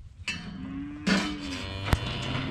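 Calves being worked through a bunch during processing of stocker steers, with a couple of distinct moos and cattle sounds over ongoing handling noise and a sharp clank near the end.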